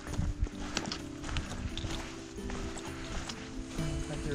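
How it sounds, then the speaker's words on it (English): Hooves clip-clop on hard ground in a busy outdoor scene with steady background noise, the footfalls fairly close and continuous. "Horses everywhere."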